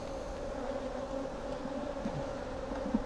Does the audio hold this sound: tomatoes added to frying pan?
no